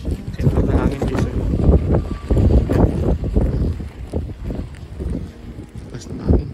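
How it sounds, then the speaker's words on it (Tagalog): Strong gusts of wind buffet the microphone at a mountain campsite at night, rising and falling in loud, rough surges. "Lakas ng hangin."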